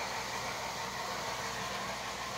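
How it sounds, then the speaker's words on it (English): A small model steam engine runs nearby at a model railroad layout, giving off a steady, even hiss and faint mechanical whir with no talking. "As you can hear, Ray's over there running his steam engine."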